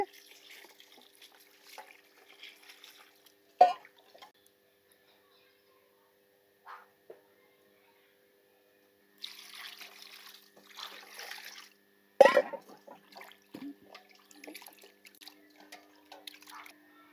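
Intermittent splashing and trickling water as mutton is washed with salt, with brief drips and sloshes, a few louder splashes, in a quiet room with no talking.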